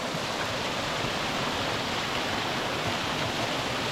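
Meltwater pours down the rock of Pavey Ark on Jack's Rake in the Lake District: a steady, loud, close rush of falling water, an even hiss with no breaks and no voices.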